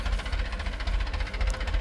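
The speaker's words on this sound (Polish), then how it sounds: "więc można sobie po prostu wsiąść w ciągnik i pojechać" An Ursus C-360 tractor engine runs close by in a field, a low, steady diesel throb with a rhythmic knocking pulse and slight rattle, heard alone.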